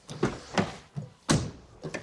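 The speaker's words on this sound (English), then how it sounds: "Door opens and closes nicely." Car door on a 2012 Peugeot 208 1.2 petrol being worked during a service, a series of close thunks and latch clunks as it opens and shuts, about five sharp hits with no talking.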